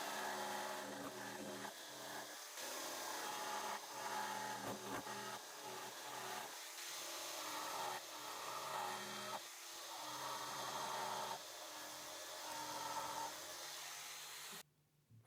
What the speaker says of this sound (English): I wanted some rounded corners, so I started shaping them first roughly with the jigsaw.